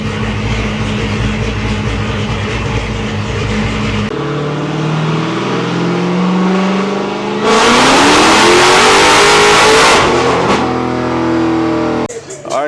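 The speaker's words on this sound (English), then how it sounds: "All right guys, so we're gonna do a full pull." Dodge Hellcat fitted with a Kong 2650 supercharger making a full pull on a dyno, engine climbing through gears with rising revs and supercharger whine, then roaring at full load before cutting off abruptly; very loud and close.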